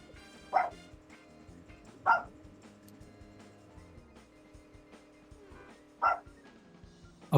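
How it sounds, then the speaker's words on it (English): A dog barks in the background during a game tournament commentary, four short sharp barks spaced a few seconds apart over a steady musical backdrop, with no talk over them. "Apologies if you can hear a dog barking in the background."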